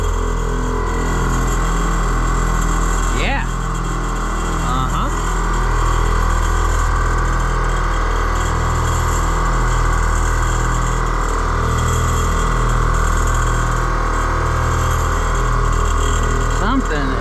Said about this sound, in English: Man, them pumps are loud.